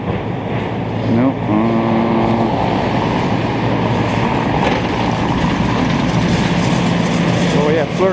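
A Prevost H45 coach bus rolls past on a street in Old Montreal, its engine rumble and road noise swelling loud and broad, with a brief squeal early on and steady traffic hiss throughout.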